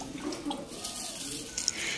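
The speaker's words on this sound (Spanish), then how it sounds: "Luego se lavan con abundante agua, con 3 o 4 cambios de agua." Water runs steadily as chicatana ants are rinsed under plentiful water, a soft continuous splashing and trickle close by with no voices.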